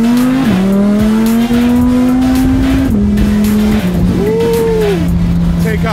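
An Audi R8 corners fast, its tires letting out a loud, sustained squeal that slides in pitch and swoops up near the end, over a steady engine roar.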